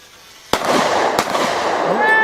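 Two sharp, loud .45 pistol shots fired outdoors at a model P-51 plane, spaced under a second apart, followed by a buzzing motor whine and a brief voice.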